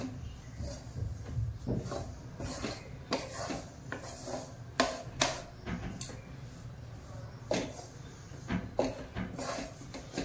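Gram flour roasting in ghee in a pan while being stirred, giving soft repeated scraping and rubbing strokes with light clinks of the utensil against the pan, close and fairly quiet, and no talking.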